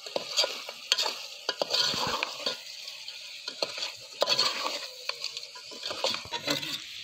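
Country chicken curry being stirred in a pot over a wood fire, with a steady run of scraping, clattering spoon strokes over a soft frying sizzle, close and fairly loud, no talking.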